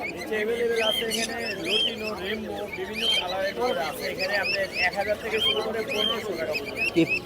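Budgies and other caged birds chirp and tweet in a busy winter bird market, with a dense, steady chorus of close calls running under people talking.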